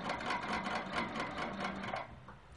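A sewing machine runs steadily while stitching straight seams on a quilt block, a continuous close mechanical whir with a rapid needle rhythm that eases off near the end.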